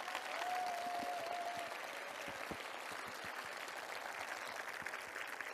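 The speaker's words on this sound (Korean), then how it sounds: "여러분 하늘까지 들릴 수 있도록 여러분 박수 한번 부탁드리겠습니다" A talk-concert crowd at a Seongnam citizens' budget festival gives a faint, distant wash of continuous clapping for the Sewol ferry families, sustained evenly throughout.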